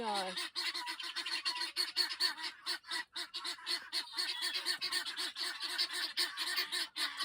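A flock of geese honks continuously, loud and close, the calls overlapping in a busy, chattering chorus.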